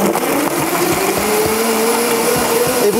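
A Domo blender PRO runs on its smoothie setting, a loud, steady, close whirring motor with a slight rising pitch, heard alone without talk.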